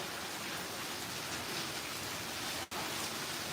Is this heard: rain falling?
yes